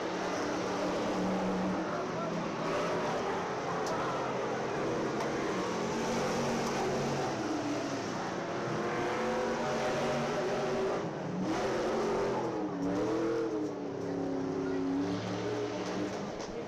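Race cars running laps at County Line Raceway, engine noise droning steadily throughout with a loud broadband roar, under a track announcer calling times over the PA.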